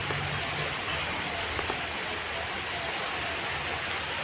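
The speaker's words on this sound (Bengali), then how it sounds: "দেখো তোমাদেরকে আর একবার দেখাচ্ছি বৃষ্টিটা কত জোরে হচ্ছে" Heavy rain pours down steadily through an evening during the Rath Yatra fair, a dense, even hiss of falling water that fills the whole stretch without pause or any voices.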